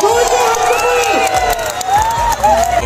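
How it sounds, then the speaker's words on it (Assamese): An audience at a village event in Borchowki claps and cheers, a loud dense wash of applause with shouts and whoops running throughout. "বৰচৌকী গাঁৱৰ ৰাইজক হাত চাপৰি মাৰিবলৈ অনুৰোধ জনাইছো"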